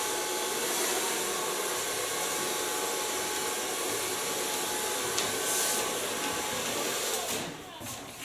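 A hair dryer blows steadily while hair is dried over a round brush, a loud, continuous whooshing roar that holds for several seconds, with a brief shift near the end as it is moved or switched off.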